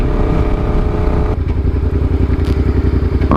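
A Suzuki SV650S motorcycle rumbles loudly while being ridden, its engine throbbing in a fast even pulse up close, easing briefly then settling into a steady cruise with a faint clatter near the end.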